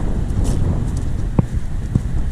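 Gusty wind rumbles low against the microphone on the Southern Upland Way in Scotland, with a couple of faint knocks partway through.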